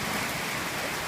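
Heavy rain pours down during a storm, a dense, steady roar of downpour close by with no break across the short stretch.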